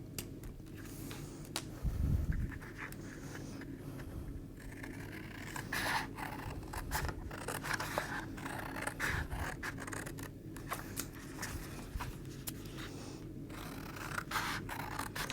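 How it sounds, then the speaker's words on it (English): Scissors snip and scrape through cardboard while a takeaway-style box template is cut out, with gluing flaps trimmed away; steady close crunching cuts and rustling run throughout, with no talking. "we're going to cut away these panels here first of all, but we're going to then cut away also some gluing flaps"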